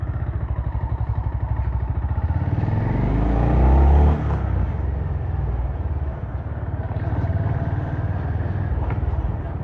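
A Honda motorcycle engine runs with a steady throbbing idle, rising briefly to a louder rev before settling back, heard close with faint talk in the background.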